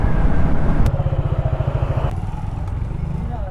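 A motorbike ridden on a road toward Tezpur University, its engine pulsing in a steady low-pitched putter close by. The note shifts partway through, with road noise and wind throughout and no speech.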